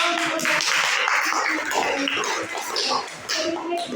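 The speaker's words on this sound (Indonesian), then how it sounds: "Berikan aplaus dulu" Classroom applause during a lesson: a few seconds of scattered, fairly close clapping from a group of students, with some voices and chatter mixed in.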